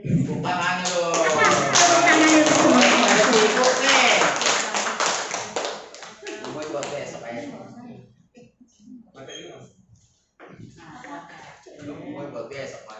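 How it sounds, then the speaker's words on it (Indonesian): Applause for everyone at an elementary school practice session, loud, rapid clapping mixed with voices for about six seconds, then dying away as people start talking. "Tepuk tangan untuk semua."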